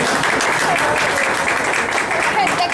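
Guests at a quinceañera candle ceremony applaud, a continuous even patter of clapping with voices murmuring underneath.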